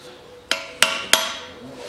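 Three sharp, ringing metal hammer taps in quick succession strike a screwdriver to seat a front wheel hub bearing on a 2007 Ford Ranger 2.5 turbo, close and alone.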